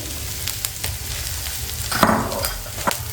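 Fresh coriander hits a pan of garlic tempering and sizzles loudly up close, with stirring scrapes and a brief surge of frying as it lands.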